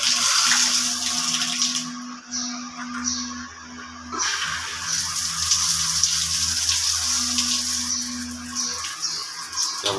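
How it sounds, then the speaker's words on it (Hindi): A wall-mounted bathroom shower runs with a steady hiss of falling water, briefly interrupted and then resuming, loud and close throughout, with a low hum beneath. "वाल शावर चल गया।"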